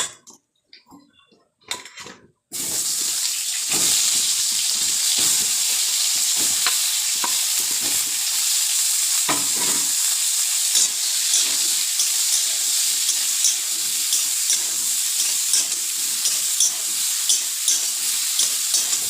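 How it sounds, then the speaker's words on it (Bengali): After a few brief clatters, eggplant hits hot oil and a loud, continuous sizzle takes over, with occasional scraping and stirring knocks throughout. "এবার দিয়ে দেবো বেগুনগুলো"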